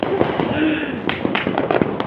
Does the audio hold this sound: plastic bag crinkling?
no